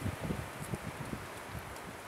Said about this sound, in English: let's wait for the wind to die down a little bit before I start this up